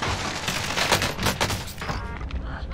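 Rapid overlapping gunfire from a Warzone match, dense loud bursts of shots and impacts running continuously for a few seconds with no voices.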